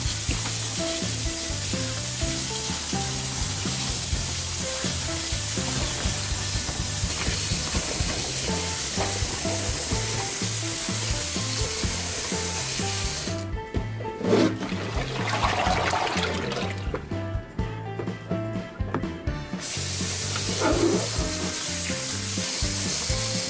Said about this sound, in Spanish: lo primero que voy a hacer es lavar estos pepinos. Les voy a poner un poco de jabón y los voy a lavar